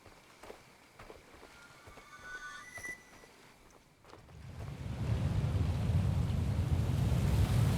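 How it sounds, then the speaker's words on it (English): Waterfall roaring in a retro game, a dense low rush that swells in after a few seconds of quiet ambience and soft taps, then holds loud and steady. "Was the waterfall always that loud, or is that new?"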